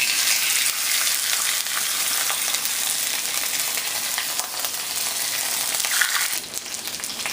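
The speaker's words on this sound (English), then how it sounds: "I'm going to put it skin side down in the pan first" A salmon fillet sizzles skin side down in a hot pan, giving a loud, steady, hissing fry that fills the whole stretch close up, with faint crackles and no voices.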